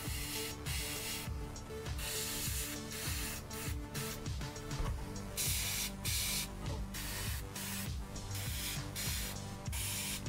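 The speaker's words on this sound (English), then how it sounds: "You've never seen a man airbrush this fast, have you?" An airbrush sprays paint onto a terrain model in a steady close hiss, broken by quick on-off bursts as the trigger is worked, with a faint motorised hum beneath.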